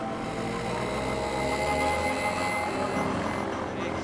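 Small airplane patched with duct tape flying, a continuous loud engine and propeller drone that holds steady throughout, with no voices.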